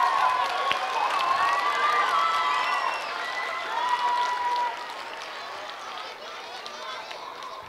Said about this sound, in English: I think that we should give a round of applause to the teachers who elect to do this program